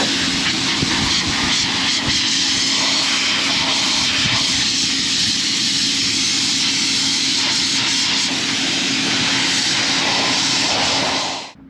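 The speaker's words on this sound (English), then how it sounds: "I'm first going to blow off the radiator" Compressed air blasting dirt off the radiator of an auger wagon tractor, a loud continuous hiss that holds steady for about eleven seconds, close to the microphone, then cuts off abruptly.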